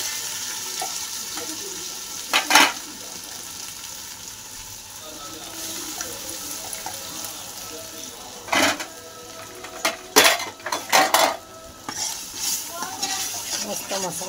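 Spiced masala paste of ground ginger, garlic and coconut frying in a pan for a banana curry, a steady soft sizzle with occasional louder stirring scrapes and clinks of a utensil against the pan.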